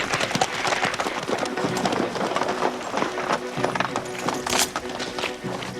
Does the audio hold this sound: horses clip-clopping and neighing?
yes